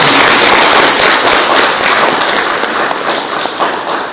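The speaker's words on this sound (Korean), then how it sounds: "박수로 받아주십니다" Audience applause welcoming a speaker at a Korean lecture hall event, loud, dense clapping sustained throughout and slowly thinning toward the end.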